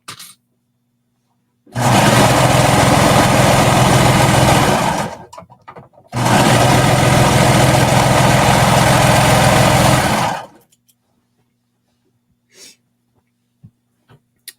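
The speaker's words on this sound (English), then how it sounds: "And then just sewing all the way down." Sewing machine stitching a seam on a knit skater dress runs in two long, loud, steady buzzing bursts separated by a brief pause, with near silence before and after.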